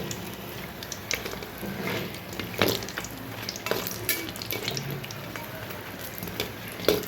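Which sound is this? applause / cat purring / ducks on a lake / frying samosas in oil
frying samosas in oil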